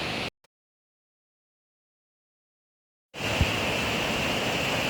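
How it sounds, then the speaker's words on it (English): Steady rushing water from a small underground waterfall inside a limestone cave, a constant broadband wash that cuts in after a few seconds of silence and holds loud and unbroken. "There's even a waterfall. A little one, but look at that."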